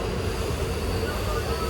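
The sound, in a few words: Dooars Queen train running slowly on the track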